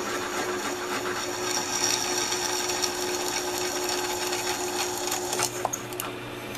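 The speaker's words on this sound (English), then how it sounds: "So we'll go ahead and just gently drill this one out." A power drill whirs steadily at a constant speed drilling a pilot hole for a DIY distortion pedal build, a continuous mechanical whine with a few small clicks near the end and no talking.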